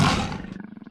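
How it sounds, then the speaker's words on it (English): A leopard lets out a single loud, close roar that starts harsh and full, then breaks into a rough, pulsing rumble as it fades. "Like the other big cats, they have a great roar."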